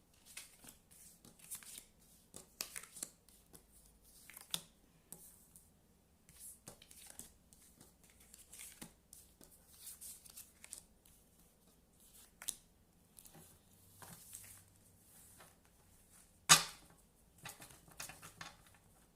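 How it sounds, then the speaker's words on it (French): Tarot cards are cut and drawn from a deck: faint, sparse taps, slides and light flicks of card stock close by in a quiet room, with no talking. "Allez, on va couper. On coupe et on tire."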